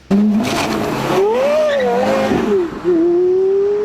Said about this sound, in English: I wouldn't be surprised if their owners were just paying for that glorious exhaust note.